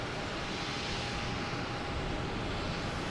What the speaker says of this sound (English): we have a JetBlue coming in from San Francisco. A321, flight